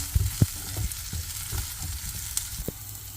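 Onion and green chillies sautéing in hot oil give a steady close sizzle, broken by a few low thumps and scrapes as they are stirred in the pan, with no voices.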